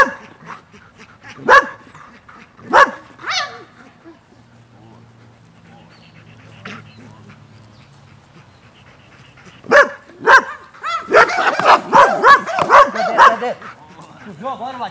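A dog gives several sharp, loud barks spaced apart during attack command training, with a rapid burst of barking near the end, while a person talks in between.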